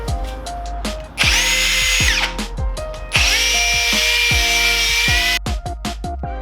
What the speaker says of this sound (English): P800 stage with the drill.